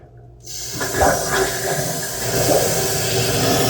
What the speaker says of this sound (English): So that's the noise of the tank refilling